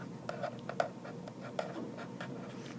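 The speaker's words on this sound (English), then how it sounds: "Let's write that down" A chemical formula being written on a board, with soft, close, irregular taps and strokes across a few seconds.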